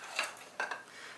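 Batter for French fried shrimp, lightened with meringue, is gently mixed in a bowl. Soft scraping and a few light clinks of utensil against the bowl come through close and quiet.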